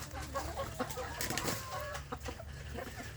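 Free-range village chickens, adult birds grouped together in a ranging pen, cluck in a steady overlapping murmur with a few sharper calls, moderately close and continuous with no talk.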